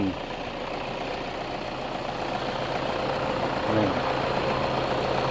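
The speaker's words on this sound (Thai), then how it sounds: "ฟังเสียงเครื่องก่อน" A Toyota Vigo 2.5 diesel pickup truck engine idles steadily with a low, even rumble, a brief louder bump near the end, and no talk over it.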